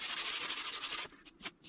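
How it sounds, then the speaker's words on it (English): Dense, steady abrasive rasping of sandpaper worked over filler and primer on a rusty, once-dented motorcycle gas tank for a Honda ATC200X build, then breaking into a few short separate strokes. "So, I think I'll just continue sanding on this side."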